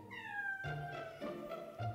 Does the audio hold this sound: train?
no